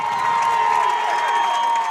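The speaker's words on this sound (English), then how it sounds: "Listen to this crowd." A football stadium crowd roars with cheers and applause, a dense, loud, sustained wash of voices with no distinct words over the brief stretch.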